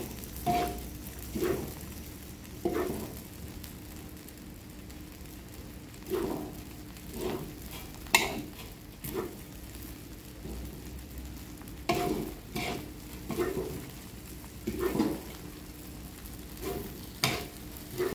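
Rice vermicelli is stir-fried in a pan, with repeated scraping and tossing strokes of a spatula at an irregular rhythm over a steady low sizzle, close and alone.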